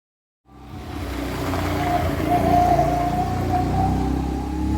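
A bus pulling into a village stop in the Konkan countryside, its engine fading in and swelling into a steady, close rumble with a droning whine.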